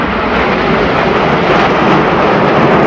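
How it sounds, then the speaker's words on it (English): Red Arrows jets and a CF-18 Hornet fly past at an airshow, producing a loud, dense, continuous roar that swells slightly as they pass. "les Red Arrows et note avec the CF-18. Hornet 100 in the trail."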